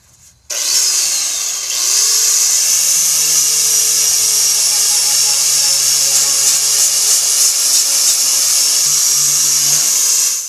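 A loud, steady whirring grind of a power tool with a wire brush removing rust, running continuously, high and harsh, starting abruptly after a brief quiet moment.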